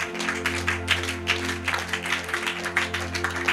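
A congregation claps in an uneven patter of applause for the Lord Jesus Christ, moderately loud over a steady low hum, with no speech.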